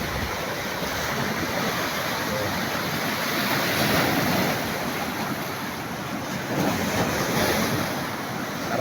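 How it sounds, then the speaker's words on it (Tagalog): Sea waves at Bangunay roll onto the shore one after another, a steady broad wash of surf with wind buffeting the microphone and a faint voice in the background. "Sunod-sunod yung alon."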